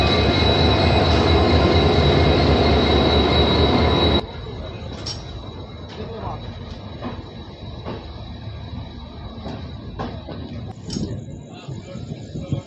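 The Hubli–Yeshwantpur weekly express rolls in with a loud, close roar of wheels and a high squeal that cuts off abruptly, leaving quieter station ambience with scattered clanks and faint distant sounds.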